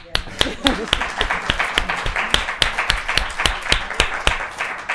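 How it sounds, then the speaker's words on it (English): A man claps his hands in a steady, rhythmic run of sharp, close claps, roughly three per second, with talking mixed in around them. "I gotta clap on that."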